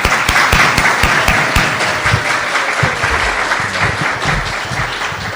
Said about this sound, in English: Everybody, please just give me a round of applause for Rebecca.